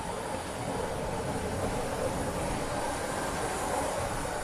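Train rolling along the tracks in the video game GTA V, a steady loud rumble of wheels and cars with faint rail squeal, continuous for the whole stretch with no talk over it.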